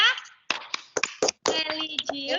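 Children clap through the Tepuk PPK routine in an online class, a patterned sequence of sharp, close claps separated by short pauses, with chanted voices joining in toward the end.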